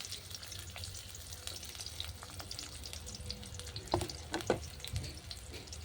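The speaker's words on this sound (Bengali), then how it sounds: "পেঁয়াজটা ভাজা ভাজা করে নেবো।" Chopped onions fry in hot mustard oil in a wok with dried red chillies, a steady close sizzle throughout, with a few louder scrapes and knocks of stirring near the end and no talking.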